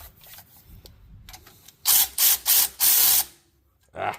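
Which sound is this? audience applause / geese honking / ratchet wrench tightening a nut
ratchet wrench tightening a nut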